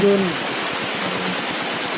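A waterfall beside the road to Blangkejeren, a steady broadband rushing of falling water heard alone at moderate loudness, with a brief tonal sound at the very start.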